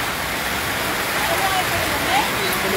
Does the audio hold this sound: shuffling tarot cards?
no